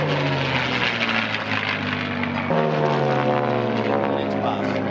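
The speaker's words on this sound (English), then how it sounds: "Les Nino and the P-40" A World War II P-40 fighter roars past at an airshow at Wanaka, its propeller engine droning loudly and shifting pitch as it passes, with a commentator's voice over the aircraft noise.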